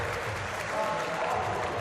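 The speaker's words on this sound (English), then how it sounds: "that got the crowd really hyped too" A crowd at a women's street league skateboarding contest cheers and applauds, a brief dense roar of clapping and shouts close by.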